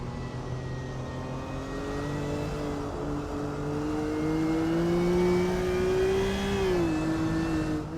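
A race car engine in a Le Mans racing game drones steadily through the Dunlop chicane, its pitch climbing and dipping with throttle changes, loud and continuous with no talk.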